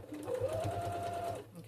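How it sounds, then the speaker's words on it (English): A sewing machine stitches around fabric for an envelope project, a quiet rapid whirring run lasting just over a second, with the needle's fast pulsing beneath it. "So we're going to sew this around."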